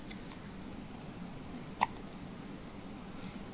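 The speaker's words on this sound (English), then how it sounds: "First day on earth and you got hiccups." A day-old newborn baby hiccuping, one small sharp hiccup that stands out faintly against a quiet room hum.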